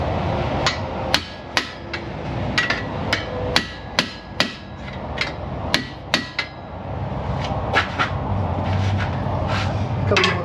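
Hammer taps on a vehicle part in an auto repair shop, about a dozen sharp, close metallic strikes in an irregular rhythm over steady shop background noise.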